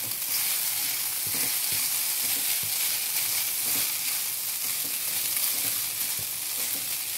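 Semolina upma stirred in a pan with about a teaspoon of oil, giving a steady, close sizzle of frying broken by soft scraping and stirring knocks, with no voices.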